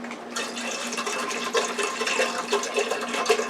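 Bottled water pours into a pressure cooker for vegetable soup, a continuous gurgling, splashing fill at close range with small bubbling pulses and no talk.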